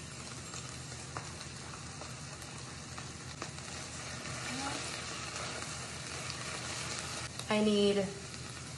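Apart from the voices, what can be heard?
minced garlic sizzling in pan with cooked chicken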